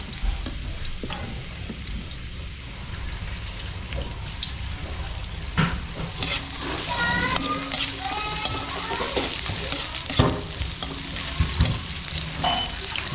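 Garlic fries in a pan for tinola, giving a dense, continuous sizzle with scattered crackles and the scrape of stirring close by.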